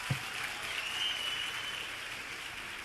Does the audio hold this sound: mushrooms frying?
no